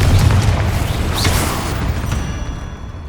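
A Confringo explosion spell bursts in the Hogwarts Legacy video game with a loud low boom and rumble that lingers and slowly fades over a few seconds.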